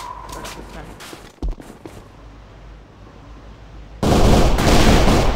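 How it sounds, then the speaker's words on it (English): Gunfire in the online shooter AVA (Alliance of Valiant Arms), a few sharp shots under a player's talk early on, then a loud sustained burst of rapid fire closing the stretch. "Oh, that's a gun."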